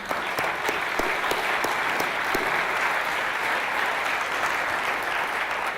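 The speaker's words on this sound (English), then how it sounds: "Another big round of applause for the entrepreneurs." Steady, dense applause from an event audience cheering entrepreneurs after a pitching competition in Newcastle, many hands clapping continuously and fairly close for the full stretch with no one speaking.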